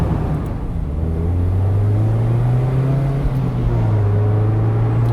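A 2022 Mazda MX-5 Miata driving on the road, its engine holding a steady low drone that rises slightly and settles, heard from inside the car with no talk.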